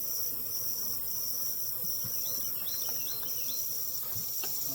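Honeybees from a late-season caught swarm buzz steadily around a nuc hive box outdoors, a constant insect drone with a few brief higher chirps and faint knocks, no talking.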